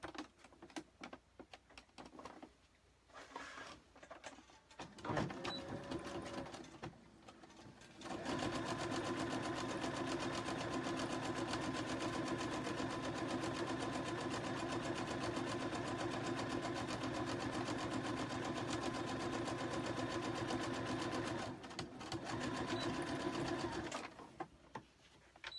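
A sewing machine stitches a quarter-inch seam on a fabric card holder, a steady, loud mechanical whir running for about fifteen seconds, bracketed by quieter clicks and handling noises.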